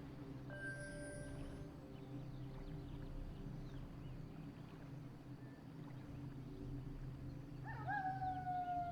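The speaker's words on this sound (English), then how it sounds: "The wolf howl signifies that night has begun." A wolf howls in the Warcraft strategy game to mark nightfall, a long rising and falling tone that swells near the end over quiet in-game ambience.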